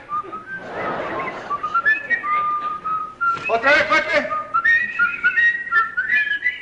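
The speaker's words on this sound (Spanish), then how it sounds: "¡A chiflar! ¡A chiflar!" Loud, shrill whistling from several people, rising and sliding in long blasts, with a shout breaking in partway through.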